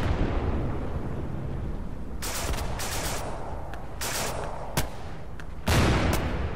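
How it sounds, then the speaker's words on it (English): Artillery shelling in the World War II shooter Day of Infamy, Battle of the Bulge map: repeated loud booming blasts and rattling bursts over a constant roar of battle, several sharp impacts landing at irregular intervals. "So I'm shelling them, boys."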